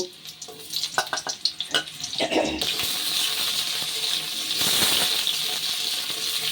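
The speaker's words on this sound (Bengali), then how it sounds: "এবার ওই তেলের মধ্যেই ওলগুলোকেও ভেজে নেব" Oil sizzles and crackles as pieces of elephant foot yam fry, with stirring clatter near the start and a steady hiss building through the rest.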